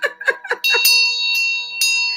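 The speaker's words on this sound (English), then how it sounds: "Let me give you a bell." A bright bell is struck several times in quick succession, then one clear ring sustains and decays with a second strike near the end, loud and close.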